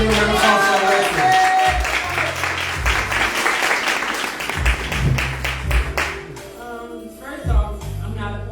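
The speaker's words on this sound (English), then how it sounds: "Let's give a round of applause for Alexis." Audience applause at a church ministry event: dense, steady clapping from a crowd for about six seconds, then thinning out as talking takes over.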